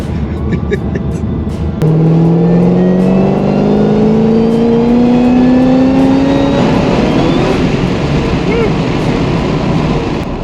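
A 1000HP LS3 car engine pulls hard at part throttle during a road tune, its pitch rising steadily as the car accelerates, loud and close, with voices talking briefly over it.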